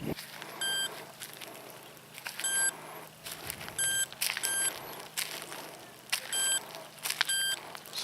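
An Amzdeal Smart Hunter metal detector sweeping a driveway gives repeated short electronic beeps in irregular bursts, close and clear, with footsteps and outdoor noise in between.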